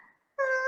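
A cat gives a single short, clear meow near the microphone, preceded by a faint, brief sound and a moment of quiet.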